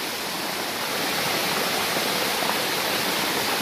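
Waterfall at Goiabal in Bom Jardim, a dense steady roar of rushing water, loud and unbroken throughout with no talk.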